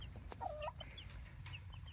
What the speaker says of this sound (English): You can see all the other hens are being nosy and checking out the babies.